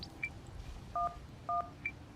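Phone keypad tones dialing an emergency number in a video game: five short clear beeps in an uneven sequence, alone over faint background hum.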